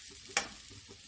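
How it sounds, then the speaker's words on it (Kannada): Black pepper and grated coconut roasting in a pan for a fish curry masala, with a steady close sizzle and one sharp scrape of a stirring spoon, no talking. "ಈ ಥರ ಕಾಳುಮೆಣಸು ಮತ್ತು ಕಾಯನ್ನು ಹಾಕ್ಕೊಂಡು ಸ್ವಲ್ಪ ಹುರಿದುಕೊಳ್ಳಿ"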